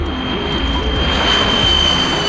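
A Delhi-bound airplane in a Tamil film scene flies overhead as a loud, sustained engine roar that swells slightly toward the end.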